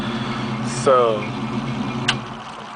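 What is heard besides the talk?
1967 Ford Mustang engine idling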